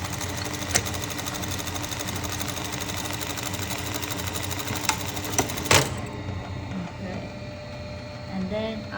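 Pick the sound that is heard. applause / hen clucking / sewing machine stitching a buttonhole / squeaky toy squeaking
sewing machine stitching a buttonhole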